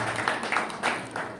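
Audience at a Vaisakhi and Guru Nanak 550th birthday celebration at the California Capitol claps for the next speaker, a soft, steady patter of applause rising in a few brief swells.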